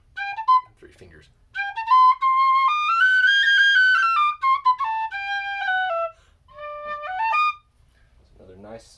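A wooden rosewood tin-style whistle with a Delrin fipple block plays a clear melodic run of sustained and stepping notes, close and solo, with a few short pauses between phrases.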